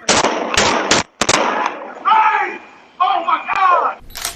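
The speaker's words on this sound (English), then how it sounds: "the device records the sound of gunshots and people screaming" A security camera recording on a sidewalk catches a rapid run of sharp, loud gunshot cracks followed by people screaming and wailing in bursts, with one more crack cutting through the screams.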